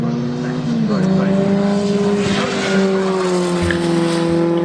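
Historic Formula Ford 2000 race cars at Snetterton pass through Cornhole toward Coram Curve, a steady droning engine whine shifting in pitch as the cars go by, under a commentator's voice.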